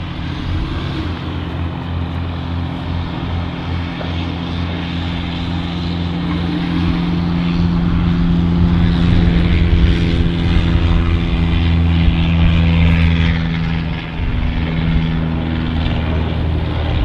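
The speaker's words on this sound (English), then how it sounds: "Ryanair to Liverpool overhead." A Ryanair airliner bound for Liverpool passes overhead at about 7,000 feet near Manchester City Airport, its engine drone steady and broad, swelling slightly midway before easing, with no talk over it.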